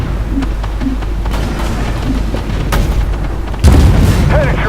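Tank cannon fire in the video game Armoured Warfare, heavy booms heard against a continuous rumbling engine and battle background, with one louder blast near the end.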